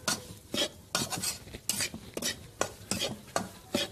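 A spoon stirs and scrapes an atta ladoo mixture of flour and sugar as it roasts in a kadai. The strokes come in repeated rhythmic bursts against a soft background sizzle, close and moderately quiet.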